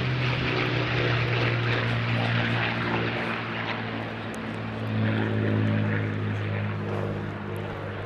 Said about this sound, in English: P-51D Mustang.